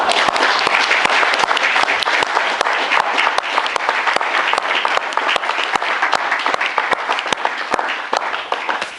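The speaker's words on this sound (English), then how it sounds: "how about one more round of applause for your performing group, the Five Note." Applause for a Maori cultural performing group at Auckland War Memorial Museum, a close, lively crowd with many sharp individual claps standing out over a steady roar that barely fades across the stretch.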